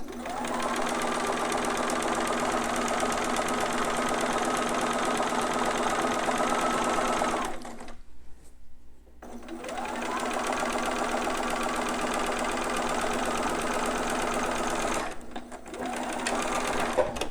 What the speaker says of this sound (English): I'm sewing right along that edge